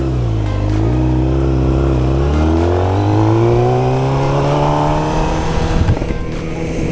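A Suzuki GSX-R600 sport motorcycle engine pulls loud and close as it is ridden, its pitch climbing steadily through the revs in one long continuous drone with no talking.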